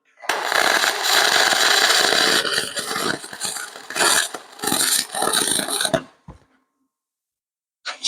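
Wire welder laying a bead on a cast aluminum lawnmower part, harsh crackling buzz in bursts that stop and restart, ending in silence with a brief noise at the close.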